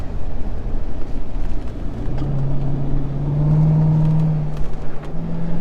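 A C7 Corvette Z06 engine pulls hard in third gear on a mountain drive, heard from inside the car as a loud steady drone with a rising tone midway, under road and wind noise.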